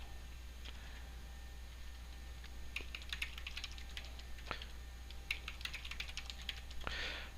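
Quiet, close tapping of a computer keyboard as a new password is typed, a run of light irregular keystrokes with a few louder presses over a steady low hum.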